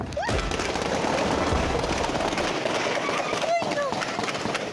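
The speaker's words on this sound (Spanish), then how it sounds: "Los sonidos de los disparos captados en este video" Rapid bursts of gunfire crackle amid loud, chaotic background noise, with a few whistling sounds cutting through near the end.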